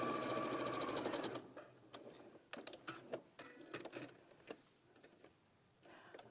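A sewing machine runs fast and close for just over a second, then breaks into scattered ticks, clicks and short mechanical taps as it stops and is handled, fairly quiet overall.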